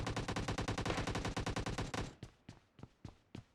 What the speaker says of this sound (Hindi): साथ के साथ कार 98 की भी आवाज़ आ रही होती है।